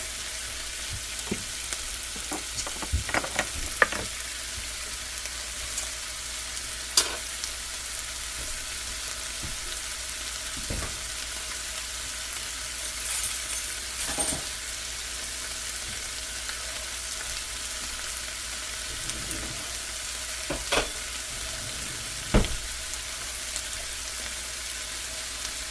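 Corn chowder ingredients, seasoned with cumin and ginger, fry in a pan with a soft, steady sizzle, broken by occasional faint clicks and stirring scrapes.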